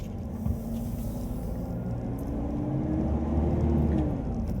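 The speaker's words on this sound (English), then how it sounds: "I'm driving to the market to get a few things" A car drives along a rural road in Thailand, giving a steady low rumble with a faint whir of the engine and tyres that swells a little toward the end. No one speaks.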